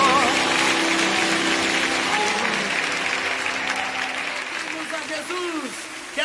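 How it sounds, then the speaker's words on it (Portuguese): Congregation at a Portuguese-language worship service claps in a loud, sustained wave that slowly fades, while a voice speaks and sings over the applause. "Aplauda o Rei dos Reis."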